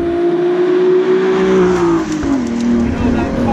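A 2018 Ford GT engine drones loudly up close, its pitch holding steady and then shifting as it accelerates, with road noise and gravel underneath.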